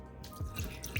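Water pours from a gold watering vessel, a soft close trickle with dripping splashes through a one-second stretch, used indoors at a home decor setup.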